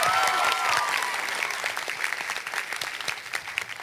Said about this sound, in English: Can we get a round of applause to Tyler's mom?